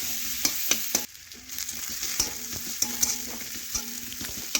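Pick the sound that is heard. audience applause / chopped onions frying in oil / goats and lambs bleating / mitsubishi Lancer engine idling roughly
chopped onions frying in oil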